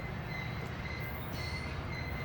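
A Norfolk Southern freight train rolling through an elevated curve, a steady rumble of wagons with faint wheel squeal on top, close and continuous over a short stretch.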